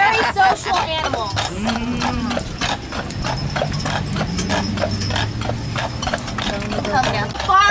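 Horse hooves clip-clop steadily at a walk on a carriage tour through Ocala, Florida horse country, close and rhythmic, with people talking throughout and a horse whinnying now and then.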